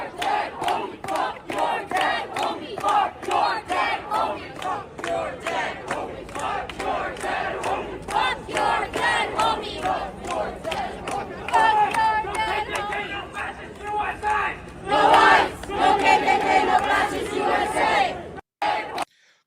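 A crowd of protesters at Cal Berkeley chants slogans in loud rhythmic bursts, with shouting voices and crowd chatter between the chants.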